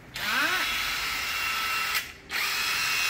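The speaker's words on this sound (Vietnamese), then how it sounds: "em sẽ thử cho các bác là những cái mẫu máy bu lông pin nhá" A cordless battery impact wrench for bolts runs in a loud, steady whine that spins up, holds for nearly two seconds, breaks briefly, then starts again, close by with no talk.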